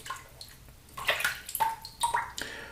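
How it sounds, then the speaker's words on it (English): A small amount of water drizzled onto the face of a shaving brush, heard as a few soft, brief splashes and drips close up, in quiet surroundings. "I'm going to add just a touch of water"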